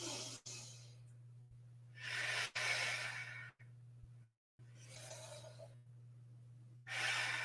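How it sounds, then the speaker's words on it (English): Slow, steady breaths drawn in and pushed out close to the microphone during a Pilates mobility exercise, several cycles separated by short pauses, over a low steady hum. "You might hear my breath."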